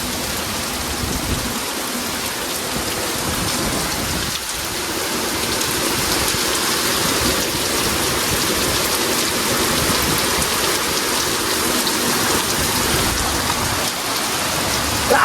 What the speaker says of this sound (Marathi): भरता भरता पाऊस आला.